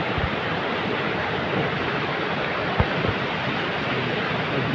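The Ganga river rushes below a trolley crossing near Gomukh and Bhojwasa in the Himalayas of Uttarakhand, a steady, dense roar of flowing water with a couple of faint knocks and no voices.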